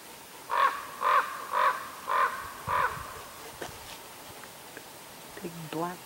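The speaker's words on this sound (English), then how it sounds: "Black crow at Big Witch Mountain." A black crow caws five times in an even rhythm at Big Witch Mountain, loud and fairly close outdoors, followed by faint scattered sounds and a brief voice at the end.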